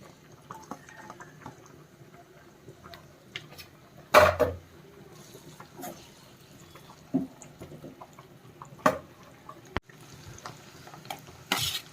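Onion goes into a hot cooking pan for a prawn curry base, giving soft sizzling and stirring with scattered clinks and a few sharp metallic knocks against the pan, close and without talk.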